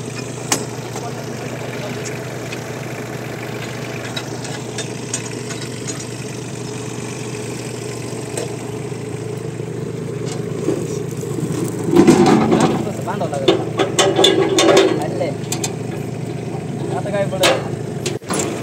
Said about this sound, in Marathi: तर आता शेवट इथं ट्रॅक्टरनी दंड पाडत आहेत पाण्यासाठी